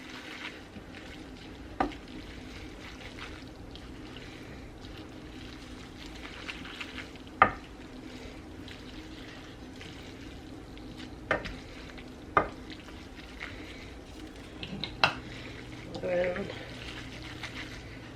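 Pork, vegetables and sauce stir-fried together in a pan and heated through to thicken, with a soft steady sizzle, occasional sharp utensil knocks against the pan and some scraping, close and moderately quiet.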